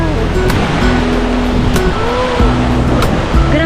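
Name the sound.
sea waves near the shore, Infanta, Quezon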